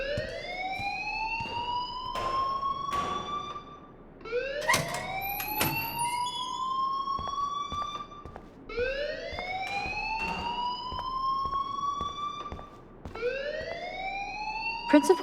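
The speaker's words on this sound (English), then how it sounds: "please turn off that alarm since that's your job" A fire alarm in the video game Life Is Strange wails in repeated rising sweeps, each climbing tone lasting a few seconds before restarting, loud and continuous with sharp clicks between cycles.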